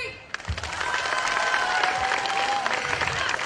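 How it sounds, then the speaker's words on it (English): An audience on one side of a hall claps hands together in a dense, steady burst of applause lasting a few seconds, with a faint high whistle ringing above the noise. "Everyone on this side, we're going to clap our hands"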